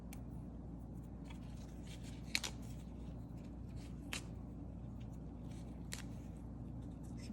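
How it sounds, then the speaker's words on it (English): Fresh basil leaves are torn by hand in a quiet kitchen, making faint, soft rustles with a few brief crisp snaps spaced a couple of seconds apart. "Get some of these basil, fresh basil leaves, and just tear them."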